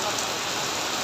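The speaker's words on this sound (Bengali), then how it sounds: "ঝুম বৃষ্টি" Heavy monsoon rain pours in a steady, dense hiss, loud and unbroken across the short stretch, with no distinct drops or other sounds standing out.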